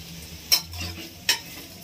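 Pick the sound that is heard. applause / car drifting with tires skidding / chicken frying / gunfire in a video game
chicken frying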